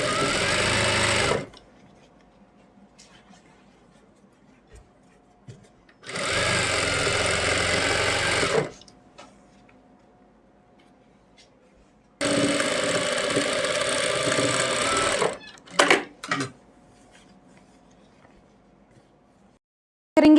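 Sewing machine stitching an Afghani salwar, running in three long bursts of a few seconds each with quiet pauses between, then two short quick jabs, loud and close.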